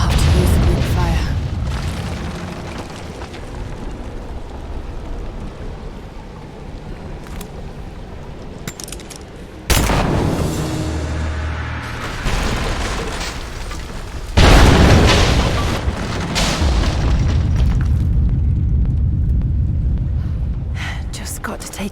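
Greek fire explosions go off in the video game Rise of the Tomb Raider as a quick fire brings down an unstable statue's supports. Two sharp, loud booms burst out over a rumbling, clattering game backdrop.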